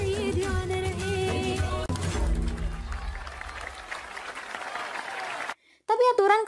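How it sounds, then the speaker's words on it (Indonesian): An audience at a music competition applauds a performance. The clapping swells under the music and then fades, and a voice follows. "berhasil mendapatkan tepuk tangan dari semua hadirin"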